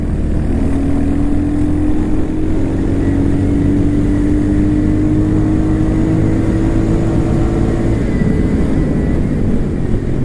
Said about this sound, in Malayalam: വളരെ സ്മൂത്ത് ആയിട്ടുള്ള ഒരു എൻജിൻ കേട്ടോ